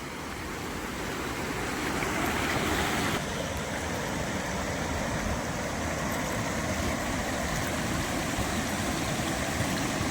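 An overflowing stream after torrential rain rushes in a constant, loud roar of floodwater across a submerged road, the broad wash steady for the whole stretch with some wind buffeting and no voices.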